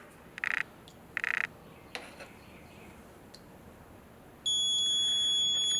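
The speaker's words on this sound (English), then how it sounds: "Show you what the beep sounds like." A multimeter continuity tester on well pump wiring gives two short, sharp beeps, then after a pause a steady, continuous tone that holds to the end, loud and close.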